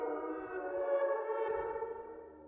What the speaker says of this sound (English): Spooky reverb noises.